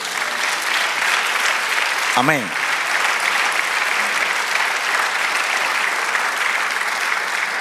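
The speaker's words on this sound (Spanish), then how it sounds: "Da un aplauso al Señor." Church congregation applauding steadily throughout, a dense even wash of clapping, with a voice briefly calling out amid it.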